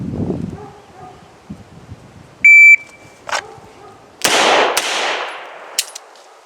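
A Beretta M9A3 pistol fires a few sharp, loud shots at intervals while a magazine is emptied at an outdoor range, each crack trailing off quickly, with an electronic beep partway through.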